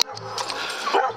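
Several dogs barking and yipping at a home where guns are being test-fired, a short excited burst of barks close by with no talk over it.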